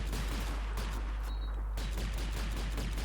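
Dense, rapid gunfire rattles through a Call of Duty 2 battle as shots are fired at incoming aircraft, loud and continuous with overlapping bursts.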